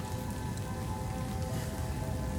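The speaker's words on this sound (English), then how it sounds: "It's kind of raining out here right now." Steady rain falling outdoors, a dense, continuous patter of drops close by with no voices, holding at an even level throughout.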